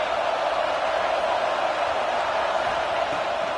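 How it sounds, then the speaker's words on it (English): Stadium crowd roar from the college football video game NCAA 26, a steady, dense wash of noise holding at an even level throughout with no distinct voices standing out. "This crowd bringing the energy and noise early."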